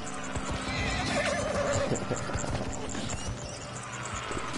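Horse whinnying and clip-clopping hooves in a PS4 video game, a shrill neigh rising over steady, close hoofbeats with dense game noise throughout.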